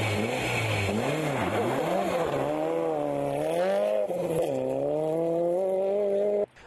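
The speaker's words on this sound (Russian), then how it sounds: "Скрежет шипов по льду и рев моторов" Rally cars on studded tires race across a frozen lake track, engines roaring loudly and close with pitch rising and falling through acceleration and revving, ending abruptly.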